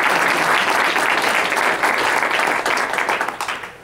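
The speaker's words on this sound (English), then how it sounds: "a big round of applause for Malik and the group" An audience applauding at a talk on women in professional life, with dense, sustained clapping from a crowd that thins into a few scattered claps as it fades at the end.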